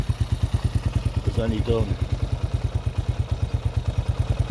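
A 1978 Honda XL250 motorcycle engine runs steadily close by, a regular loud thumping rhythm at idle, while someone talks briefly over it.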